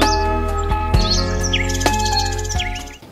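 Birds chirping and calling at Koshi Tappu wetland reserve, a few clear close tweets and warbling phrases over a steady low background hum, no talking.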